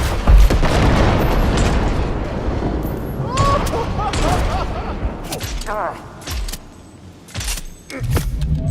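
A grenade blast in the video game Cyberpunk 2077 opens with a loud low boom, followed by dense game combat noise and scattered bangs, with voices shouting over the action.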